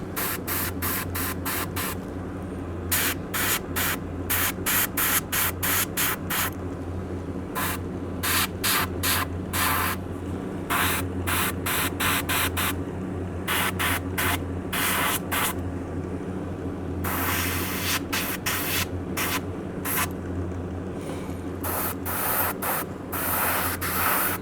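Airbrush or spray paint applied to a handmade garfish swimbait lure: repeated close hissing bursts, some short and rapid, others held for a second or two, separated by brief pauses over a steady low background hum.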